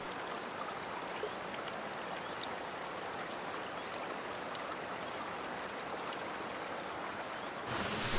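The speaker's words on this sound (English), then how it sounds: "come to this pristine pool of water" Water flows steadily at a pristine jungle pool above a waterfall, producing a constant, even rushing hiss with a faint high insect-like tone running over it.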